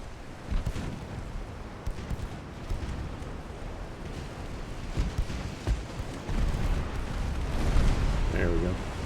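Naval guns fire repeatedly during a battle in Ultimate Admiral Dreadnoughts, a scatter of deep booms and rumbling blasts spread across a noisy, churning background, with a brief voice near the end.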